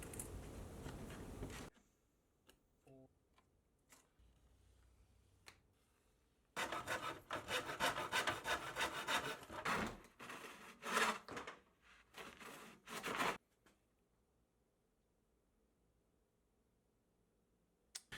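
Red oak sides for a Go board being cut by hand, with bursts of rough rasping, sawing strokes separated by near-silent pauses.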